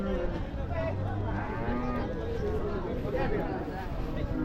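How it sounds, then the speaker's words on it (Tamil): Cattle moo at the Vaniyambadi cattle market in Tamil Nadu among a pair of cart bullocks, with low calls under continuous nearby talk and crowd chatter. "ஒரு ஜோடி வண்டி மாடு கொண்டு வந்திருக்காங்க"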